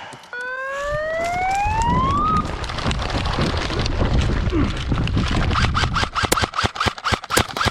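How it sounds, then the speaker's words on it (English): Electronic siren at the start of an airsoft team deathmatch rises in a sweeping wail for about two seconds, then cuts out and is followed by dense rattling of airsoft gunfire and scuffling, loud and close. "Stand by for siren"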